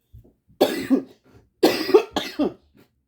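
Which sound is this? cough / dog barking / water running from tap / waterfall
cough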